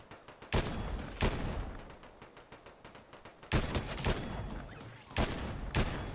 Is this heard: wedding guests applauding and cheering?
no